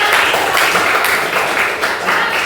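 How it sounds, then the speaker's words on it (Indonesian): Students in a classroom clap together in steady, dense applause that fills the whole short moment, close and loud, with no talk over it. "Oke, sekarang tepuk tangan untuk noven karena sudah"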